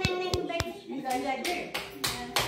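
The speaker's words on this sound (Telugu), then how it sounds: "Claps claps." Hands clap sharply several times in an uneven rhythm, close and loud, while voices talk and a child chatters around them.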